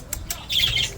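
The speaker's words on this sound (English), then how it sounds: "So the birds are in their new home." Birds just released into a new enclosure give a couple of short squawks, then a brief burst of higher chirping and fluttering, close by and fairly quiet.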